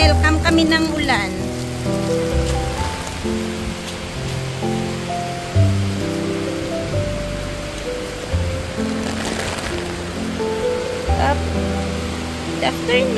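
Rain falls steadily at the Ruins in Silay City, a constant wash of drops under outdoor ambience, with a low tonal hum and music-like background sound running throughout.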